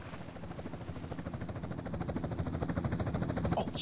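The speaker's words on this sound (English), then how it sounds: "Chopper inbound!" A video game helicopter's rotor chops in a steady, fast rhythm, growing gradually louder as it draws nearer, with a constant low engine drone underneath, from Grand Theft Auto: San Andreas.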